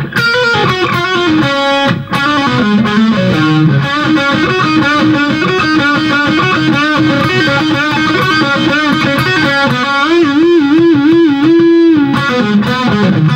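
Distorted electric guitar plays the solo from a song, loud and upfront with singing sustained notes, fast runs and wide vibrato over a steady backing.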